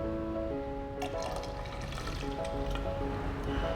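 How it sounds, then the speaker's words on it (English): Water poured from a 100 ml measuring cylinder into a 1000 ml measuring cylinder, a steady close trickle and splash running throughout over a faint background hum. "We now pour this 100 milliliters into this 1000 milliliters."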